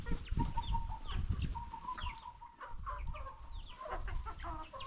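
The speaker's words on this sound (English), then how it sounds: "So I'm just feeding my chickens here with this ugali." Backyard chickens cluck and squawk at close range while being fed ugali made from maize flour, with busy overlapping calls and a low steady tone underneath.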